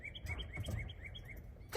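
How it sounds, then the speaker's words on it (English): Birds singing on a Louisiana morning after overnight rain, a repeated series of clear chirps at a steady rhythm from a single nearby bird, with faint low background rumble. "the birds are singing this morning"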